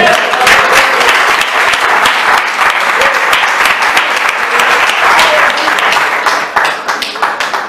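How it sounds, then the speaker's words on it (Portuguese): A church congregation applauds during a New Year's Eve evening worship service, sustained loud clapping from many hands filling the room, with a voice faintly audible beneath and the applause thinning toward the end. "Aplauda o Senhor."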